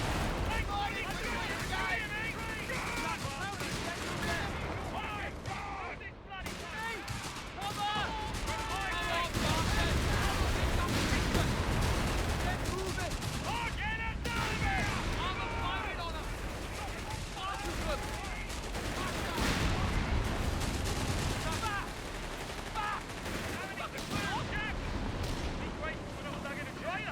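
Anti-tank guns fire in the World War II strategy game Company of Heroes 3, heard as a dense, continuous battle of booming shots, crackling gunfire and blasts, with people talking over it.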